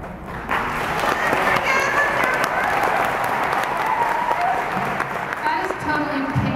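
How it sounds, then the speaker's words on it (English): An audience at a teen book festival panel breaks into steady applause, many hands clapping together in a dense, sustained wash that carries on without a break, with voices and crowd murmur mixed into it. "That is totally pity clapping."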